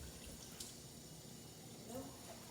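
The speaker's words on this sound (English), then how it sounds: "you take the pan and you put a little bit of water in it" A little water poured into a frying pan while making fried eggs, a soft, steady trickle and splash running low and fairly quiet throughout.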